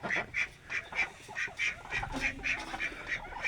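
Ducks quack repeatedly in a quick, uneven series of nasal calls, fairly close, with no talking.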